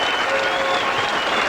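Rugby league crowd at a Widnes versus Halifax playoff match applauding and cheering steadily as the side comes round on a lap of honour, a dense wash of loud clapping without a break.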